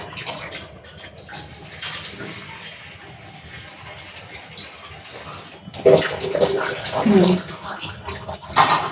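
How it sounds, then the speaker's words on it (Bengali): Water splashes and gushes into a pot of braised beef in a few bursts over a background of kitchen noise and muffled voices. "আমি পানি দিয়ে দিতেছি।"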